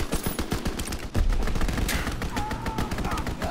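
Rapid bursts of automatic gunfire in a ranked Hardpoint match of an online shooter, loud and dense, with a heavy explosion-like thump partway through and players' voices briefly heard.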